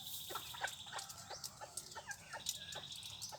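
A bantam rooster clucks and calls in short bursts, fairly faint and distant, over a steady outdoor background with a high-pitched insect-like whine.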